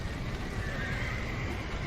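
A horse whinnies in the Red Dead Redemption video game, a loud, close neigh with a wavering tone that holds throughout over a dense rumble of game noise.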